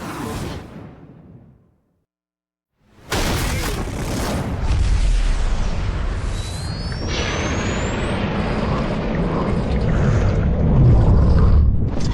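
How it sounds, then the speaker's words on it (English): Bombs exploding in BioShock 2 hit with a heavy boom after a brief silence, then a sustained rumbling roar and whooshing debris that stays loud and close. "The bombs, Father! We're falling!"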